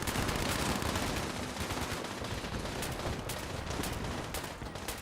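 Dense, continuous gunfire rattles in Fallout 76 during a fight with super mutants, as loud rapid bursts that fill the whole stretch without pause.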